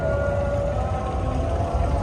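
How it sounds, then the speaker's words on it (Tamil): A distant, sustained melodic Islamic call to prayer carries over the water in Deira, Dubai, a wavering tone above a steady low background rumble. "பாங்கு சத்தம் தான் கேக்குது."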